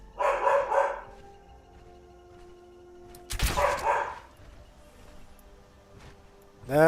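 An indoor dog barks at someone at the door: two clear bursts of sharp barking with a quiet gap between them, close and fairly loud.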